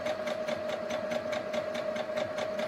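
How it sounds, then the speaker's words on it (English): A sewing machine stitches steadily, forward then backward for a back stitch, with a fast, even mechanical whir and regular ticking pulses, moderately quiet and alone. "I'm just going to go forward just a touch, and then I'm going to go backward just to back stitch, and then go forward again."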